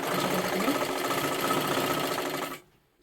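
A sewing machine runs steadily, stitching along the very edge of silky fabric with a lining, its continuous close whirring and rapid needle chatter holding for over two seconds before stopping abruptly into quiet.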